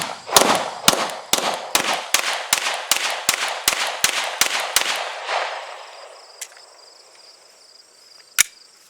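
A Smith & Wesson M&P 2.0 9mm pistol fires a fast, steady string of about a dozen sharp shots outdoors. A ringing tail follows, and one more isolated shot cracks a few seconds later.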